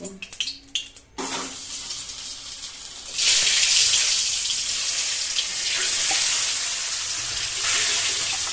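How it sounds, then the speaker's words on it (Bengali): Eggs frying in a pan for an egg and soybean curry, with some knocks and rustles at first, then a loud, steady hissing sizzle that swells after a few seconds and carries on to the end. "আজকে আমরা এখানে ডিমগুলো ভেজে নেব"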